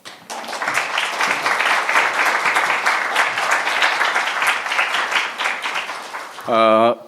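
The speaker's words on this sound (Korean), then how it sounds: "우리 큰 박수로 환영해 주시기를 부탁드립니다" Loud, sustained audience applause fills a Korean church's Friday prayer meeting as a seminary professor comes forward, dense clapping holding steady for about six seconds before a voice briefly sounds at the end.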